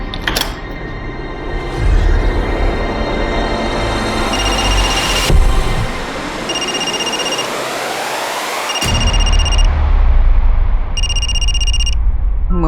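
A mobile phone left behind at home rings loudly, its repeated electronic ringtone bursts sounding close and alone, with sharp pauses between sequences over a dense musical background.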